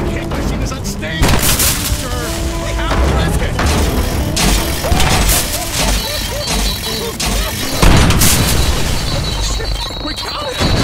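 Booming grenade blast and scattered gunfire bursts in the Deadpool video game, loud and dense, with repeated thuds layered under energetic game chatter and music throughout.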